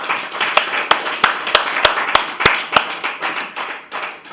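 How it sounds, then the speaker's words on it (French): A church congregation claps in a steady, rhythmic beat to acclaim the Lord. The sharp, loud claps come at a regular pace over a murmuring hall. "Est-ce qu'on peut acclamer le Seigneur très fort?"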